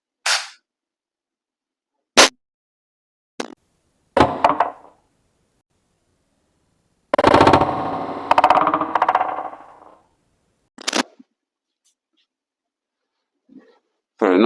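An Umarex HDR 68 revolver fires steel balls at a target, producing sharp isolated cracks with clattering impacts and mechanical clicks, spaced irregularly among silences, with a longer burst of handling noise midway.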